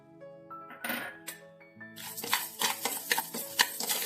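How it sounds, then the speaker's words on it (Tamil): Green gram (mung beans) roasting in a pan, starting with faint ringing clinks of the pan, then a run of dry rattling and scraping as the beans are stirred, fairly quiet and close. "இந்த பச்சை பயிறு எடுத்துருக்கேன், ஒரு கப்பு. அதை வறுத்துடலாம்."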